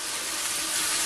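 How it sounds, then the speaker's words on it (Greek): Cooking cream hits a hot pan of sautéed ingredients, giving a loud, steady hiss of sizzling that fills the moment with no talking. "5 λεπτά μετά, αφού σοταρίστηκαν καλά, θα ρίξουμε την κρέμα γάλακτος"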